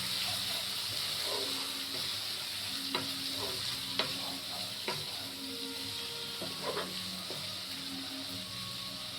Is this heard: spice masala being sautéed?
yes